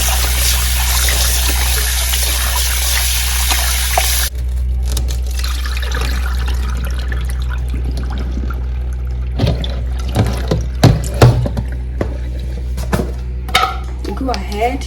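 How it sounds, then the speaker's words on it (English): Tap water runs steadily over chicken gizzards being washed by hand, a constant splashing stream for about four seconds, then quieter handling and small splashes under a low hum. "Just go ahead and wash your gizzard in normal water"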